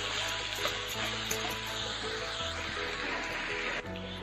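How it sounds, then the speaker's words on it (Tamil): Rice being mixed and stir-fried in a hot pan, a steady soft sizzle with spatula scrapes and stirring clatter running throughout at moderate closeness. "இப்போ நம்ம ரைஸ் ஆட் பண்ணிக்கலாம் நல்லா மிக்ஸ் பண்ணிட்டு வந்துடலாம்"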